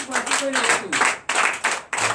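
Rhythmic hand clapping in bursts from a church congregation at a Sunday worship service in Benin, mixed with voices singing or calling out over the beat.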